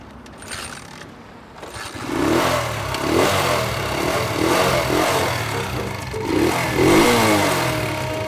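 A motorcycle engine revs repeatedly in rising and falling bursts, loud and close, with a rough mechanical rumble underneath.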